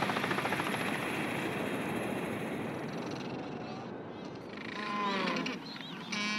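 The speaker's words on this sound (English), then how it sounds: "the helicopter must wait for a rare break in the clouds and carefully navigate the hazardous" A helicopter flies over a remote, cloud-covered sub-Antarctic island managed by the Norwegian Polar Institute, giving a steady, close rotor thrum. Near the end, bird or animal calls rise above it.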